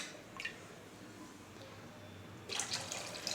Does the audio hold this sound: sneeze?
no